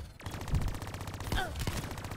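A sentry gun in Call of Duty Black Ops III fires a rapid, unbroken stream of automatic shots, loud and close, with a couple of sharper bursts mixed in.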